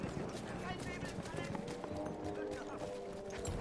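Horse hooves gallop in a Battlefield game, a quick drumming of hoofbeats mixed into a busy, noisy battle backdrop with voices present.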